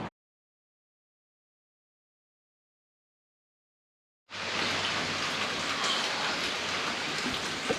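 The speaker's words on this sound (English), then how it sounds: "It is raining" Rain pours outdoors on a lake during a kayak fishing tournament, a dense steady hiss that starts abruptly after about four seconds of silence and continues loud and close.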